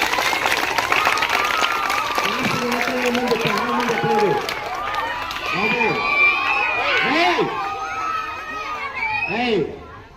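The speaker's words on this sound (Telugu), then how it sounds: "ఒకసారి డిపార్ట్మెంట్ గట్టి క్లాప్ చేయండి" A crowd at a boys' high school event applauds the biology department during a clay Ganesh idol-making competition, loud sustained clapping mixed with children shouting, while a person talks over it before it fades near the end.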